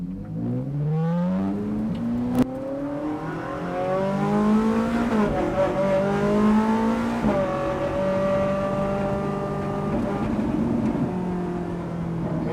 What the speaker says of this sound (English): First drive in the Ferrari.